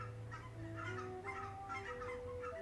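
Geese in the video game Brightbell give off a rapid run of honks and gobbling calls, several birds overlapping in a busy, fairly quiet cluster against a low droning background tone.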